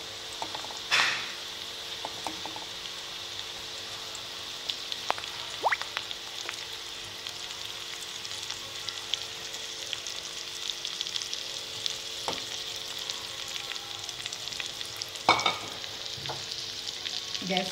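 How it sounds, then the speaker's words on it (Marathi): Brinjal pieces sizzle and fry steadily in hot tempering with onion in a pan, a continuous close crackle with occasional stirring clinks, and no one speaking. "आपण आता वांगी टाकून घेऊया."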